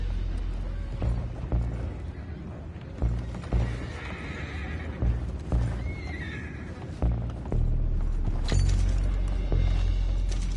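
Horses whinny and neigh amid clopping hooves and creaking, clattering commotion in Red Dead Redemption 2, with several loud calls spread over a busy, rumbling background.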